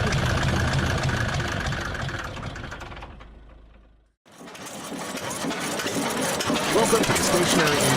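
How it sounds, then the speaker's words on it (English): Vintage stationary engines, some over a century old, run in a farm museum engine bay in Colchester, Connecticut, giving a loud, dense mechanical clatter that fades out at about four seconds and then starts up again. "vintage stationary engines, some over a century old, are brought back to life in motion and sound"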